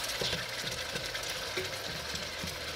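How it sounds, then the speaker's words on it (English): Pork tenderloin pieces searing in a hot pot give off a steady, continuous sizzle with faint crackles throughout, fairly quiet and close, with no talking. "Now what I'm doing is searing the pork tenderloin that you saw me cut up."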